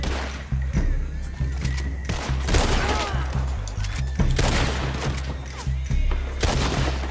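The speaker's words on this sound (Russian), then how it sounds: "Только не вижу, кто стреляет." Rapid volleys of rifle and pistol fire crackle through a Red Dead Redemption 2 gunfight, shots loud and close in irregular bursts over a steady low rumble, with occasional sharp cracks standing out.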